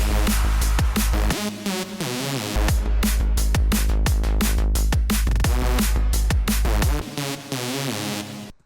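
The bright, buzzy sawtooth synth lead plays a fast melodic line over a steady low bass, loud and full-bodied, with no voices.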